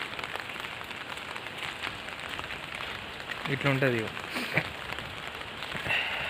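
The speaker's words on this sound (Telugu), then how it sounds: "వాన పడుతుంది" Steady rain hisses across a surface, with a voice briefly speaking partway through.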